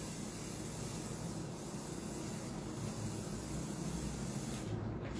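Hair spray hissing steadily from a can for a hairstyle as the hand keeps moving, a continuous broad airy spray that holds evenly throughout and cuts off abruptly right at the end, with no talking.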